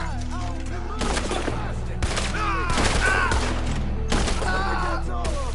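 Video game gunfire rattles in loud repeated bursts roughly every second, mixed with thumps and booming impacts, while game characters talk over the shooting.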